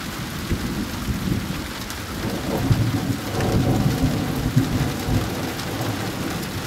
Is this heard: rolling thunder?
yes